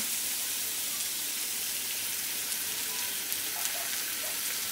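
Poppy seed paste fries with cauliflower stems and potato in a pan, giving a steady, soft hissing sizzle with a few faint pops and crackles throughout.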